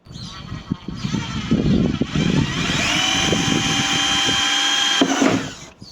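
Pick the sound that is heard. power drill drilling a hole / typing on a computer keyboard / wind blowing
power drill drilling a hole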